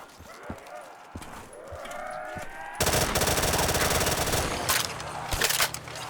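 M4 rifle gunfire in a Call of Duty custom zombies map, with a few scattered shots followed by sustained rapid automatic bursts, loud and close amid game sounds, with someone talking over it.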